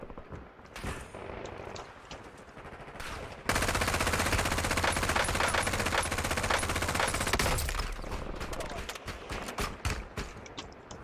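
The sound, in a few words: machine gun fire in Warzone video game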